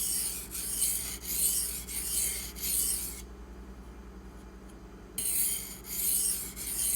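A knife blade, Maxamet or D2 steel, drawn in repeated rhythmic strokes across a fast, sandy-muddied Kyoto 150 whetstone, a close gritty rasping that pauses for about two seconds before resuming.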